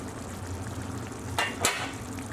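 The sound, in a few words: taking the lid off a simmering Persian stew pot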